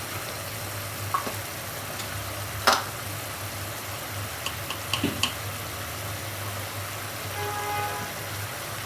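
Spice paste of softened tomato with turmeric and chili powder frying in oil for a fish masala, a steady low sizzle with a few clicks and scrapes of stirring, no talking.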